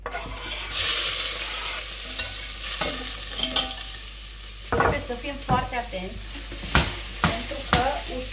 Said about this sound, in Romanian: pe uleiul încins vom adăuga 6 căței de usturoi sau mai mult